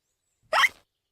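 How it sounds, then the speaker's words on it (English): A cartoon piglet toddler from Peppa Pig lets out a single short hiccup. It is a brief, close, breathy burst, heard alone against silence. "Peppa's cure for hiccups doesn't seem to have worked."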